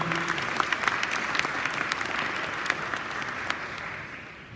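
At the BMW M5 launch event in Taiwan, a crowd gives sustained applause for the new M manager: many hands clapping in a dense, even wash with a few sharper claps standing out, fading a little at the close.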